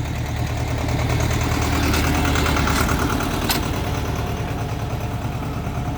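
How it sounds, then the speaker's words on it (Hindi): A tractor-driven sugarcane crusher running in a village, a loud steady diesel drone with a rhythmic mechanical chug and grind that carries on without a break, close by. "ट्रैक्टर द्वारा गन्ने की पेराई हो रही है यहाँ पे।"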